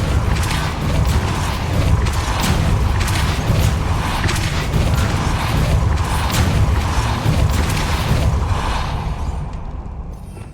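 Depulso force spell cast repeatedly in the game Hogwarts Legacy, heard as a dense, loud run of crashing bursts and mechanical clatter over rumbling game sound, continuing steadily before easing off at the end.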